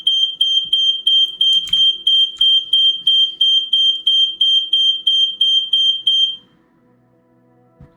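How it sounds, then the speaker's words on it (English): A fire alarm goes off with a loud, rapid series of about a dozen evenly spaced high electronic beeps. It stops abruptly after about six seconds, leaving quiet room noise. "Okay, fire alarm, whatever."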